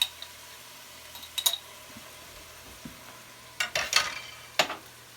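Garlic and onions sizzling in a pan while being stirred for Hoosier-style jambalaya, a faint crackle broken by a few light scraping and clinking bursts of the spoon against the pan.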